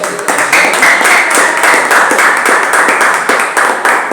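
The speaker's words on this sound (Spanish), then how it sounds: "Démosle un aplauso a él" A church congregation breaks into sustained applause during a worship service, a dense, steady wash of many hands clapping at close range for several seconds without talk.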